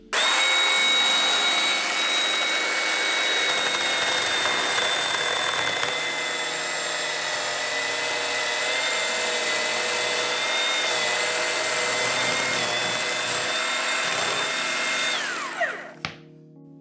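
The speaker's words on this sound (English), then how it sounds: "You might ask why I cut a piece of steak in that ribeye loin with a chainsaw." A chainsaw cuts through a ribeye beef loin, a loud, steady, high-revving whine held for about fifteen seconds with slight load variations, then winding down sharply at the end.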